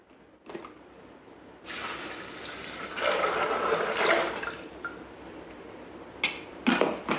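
Water being poured from a jug onto dried chickpeas in a Thermomix bowl, a litre in all: a steady close splashing and filling stream that builds over several seconds, with a few clunks at the start and end.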